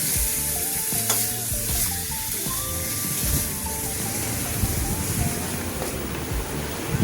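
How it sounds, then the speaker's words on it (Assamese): Fish frying in a pan hisses and sizzles continuously at close range, with occasional stirring sounds and music playing softly underneath. "এয়া মাছ ভাজি আছে।"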